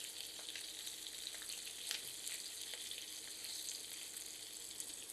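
Chicken liver kabab pieces fry in oil in a pan, giving a soft, steady sizzle with faint crackles and pops throughout and no talking.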